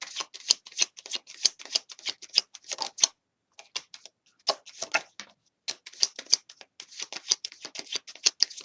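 Tarot cards are shuffled in rapid, crisp riffling bursts, close and fairly quiet, with a few short pauses between runs.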